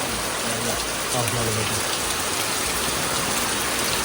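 Heavy monsoon rain in the Konkan pours down steadily, a dense, loud hiss of drops on surfaces, with a voice faintly audible beneath the downpour.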